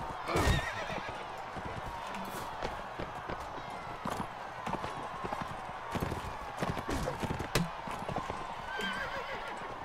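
Horse hooves clip-clop at a gallop with repeated neighs and whinnies in the medieval combat game Mount & Blade: Warband, the hoofbeats steady and close over busy battle ambience, with no talking.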